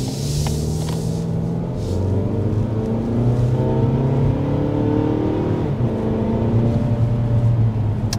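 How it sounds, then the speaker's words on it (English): A 2024 Mazda 3 Select Sport car accelerates hard on the road, its engine climbing in pitch through several gear changes, loud and close throughout with no talking. "there's an acceleration up to about 55 miles an hour, a little bit spoiled by this red light"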